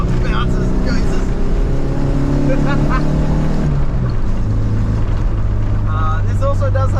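Loud, steady road rumble inside a moving car riding on worn suspension that bounces and rolls, with a droning engine tone that shifts pitch partway through and jolts from bumps, under a voice talking.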